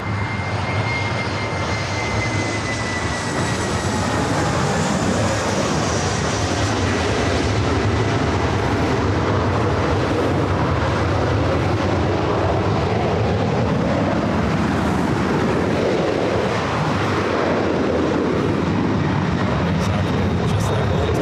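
A jet airliner rolls for takeoff on runway 24 left at LAX, its engines roaring loud and continuous as the tone sweeps upward through a long rising whine.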